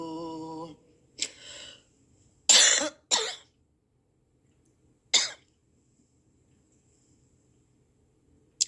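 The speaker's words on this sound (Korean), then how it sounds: "와, 아침부터 기침이 나오네요." A few sharp, loud coughs ring out one after another, separated by quiet gaps, following a brief hum of voice at the start.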